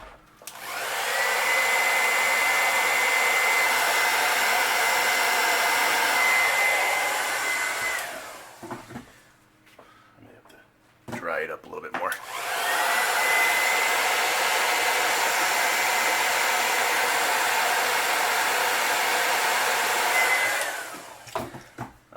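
A heat gun blows a steady, loud roar while heat-setting red paint on a fishing lure, running for about eight seconds, pausing briefly, then roaring again for another long stretch.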